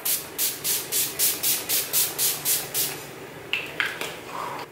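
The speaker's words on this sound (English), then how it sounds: "I take the Urban Decay All Nighter Makeup Setting Spray" Urban Decay All Nighter makeup setting spray hisses from its bottle in about a dozen quick, evenly spaced bursts, close and crisp, followed by a few softer clicks and rustles.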